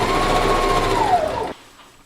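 A sewing machine stitches the gathered waistband of a dirndl skirt, humming loud and steady at close range with a slight pitch drop before stopping abruptly, leaving near silence.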